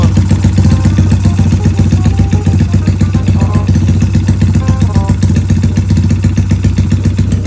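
A motorcycle fitted with a newly changed exhaust pipe runs loud and close, its engine chugging in a rapid steady pulse with rattly clatter and slight rises in revs, no voices over it.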